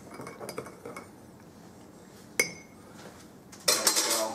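A spoon clinks and scrapes against a cup while sugar is stirred into Cuban coffee, with scattered light taps, one sharp clink midway, and a louder rattle of stirring at the end.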